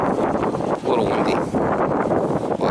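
Gusty wind buffets the microphone outdoors beside barrels of burning cleared brush on a homestead, a loud, rough rumble that rises and falls throughout.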